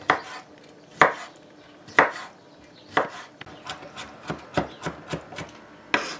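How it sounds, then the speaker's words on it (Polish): A knife chops a pickled gherkin finely on a board, sharp close knocks at first spaced about a second apart, then quickening into a faster run of lighter cuts. "Teraz siekam ten ogóreczek"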